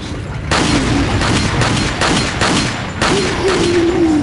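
Dynamite blasts in Resident Evil 4, a run of heavy booming explosions in quick succession, loud and close, with a rumbling tail after each burst.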